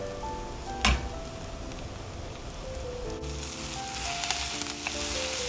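Curry leaves and thinly sliced eggplant frying in hot oil, giving a steady close crackling sizzle with scattered sharper pops and spits throughout.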